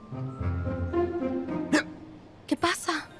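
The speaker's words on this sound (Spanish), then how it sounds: "¿Por qué has tenido hipo todo el día?" A person with hiccups gives two sharp, abrupt gulping hiccups near the end, close and clear, after a stretch of dramatic background music.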